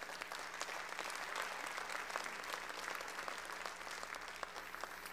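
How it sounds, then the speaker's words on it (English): A church congregation claps for the Lord during a sermon, a dense, steady wash of many hands clapping at a distance, sustained throughout at moderate level. "Come on, give the Lord a hand clap."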